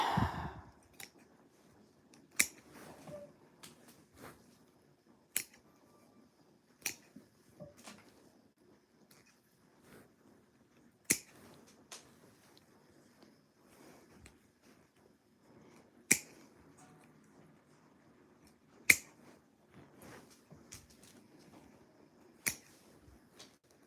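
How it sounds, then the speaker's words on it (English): Cutters snip through willow basket greenery in sharp, isolated clicks, spaced a few seconds apart over quiet, faint handling rustle, with no voices. "now let's trim off all this greenery"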